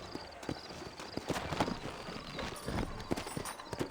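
Horse hooves clip-clopping in a steady walking rhythm, close by, over a busy ambient backdrop, in the video game Red Dead Redemption.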